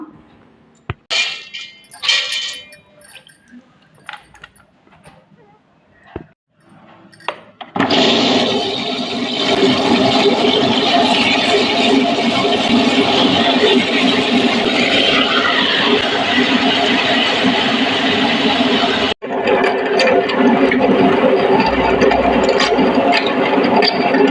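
Wet grinder grinding soaked ration rice into batter, starting with scattered clinks and rattles, then a loud continuous churning roar with a brief drop before it resumes, close with no talk.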